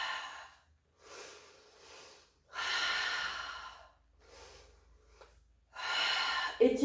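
Deep breaths in and out during an advanced Pilates exercise, slow and rhythmic, each long exhale followed by a quiet pause, close and fairly soft with no talking.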